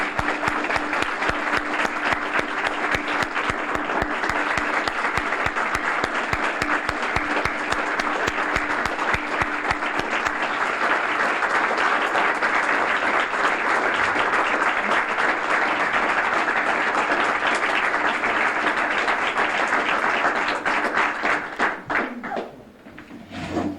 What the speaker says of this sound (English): Would you please join me in giving these guys a round of applause?